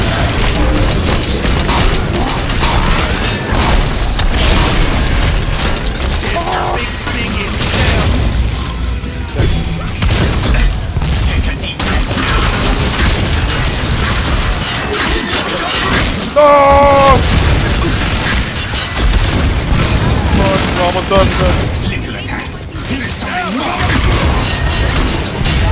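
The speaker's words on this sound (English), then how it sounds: "Oh, bombs!" Bomb explosions in Killing Floor 2 during a carnival event: continuous heavy booming and crashing blasts with shattering and mechanical clatter, loud and dense throughout, while a player talks over the chaos.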